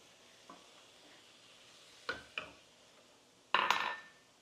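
A whisk clinks against a pan of garlic on the stove, with faint sizzling beneath and a few sharp metallic taps, the last one louder and longer.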